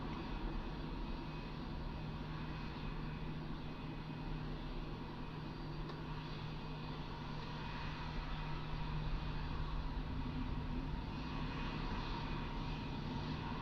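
An airliner departing Melbourne Airport for Los Angeles produces a steady, broad engine roar that holds level and continuous throughout, heard from a distance outdoors with no voices.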